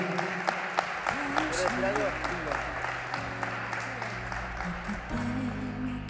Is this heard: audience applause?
yes